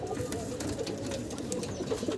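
A pair of checker-coloured Dhamasin pigeons coo close by, their low throaty murmur half buried in a busy, hissing loft background with scattered clicks and rustles. No one speaks.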